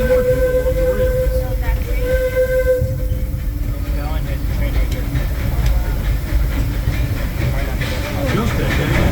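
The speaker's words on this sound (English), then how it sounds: "please remain seated until the train comes to a full stop" The Disneyland Railroad steam train, Holiday 5 Blue pulled by the C.K. Holliday, rolls along with a steady loud rumble and hiss. A faint whistle-like tone rises early on, and an onboard announcement plays over the noise.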